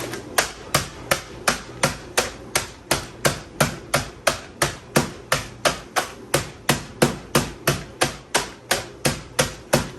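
Knife chopping pecan halves on a cutting board in a home kitchen, a steady rapid series of sharp wooden knocks, about two per second, close and clear with no talking.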